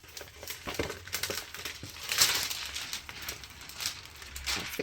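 Thin plastic protective film being peeled and crumpled off a sheet of holographic vinyl, a close, continuous crinkling and crackling with a louder rustle midway, no talk.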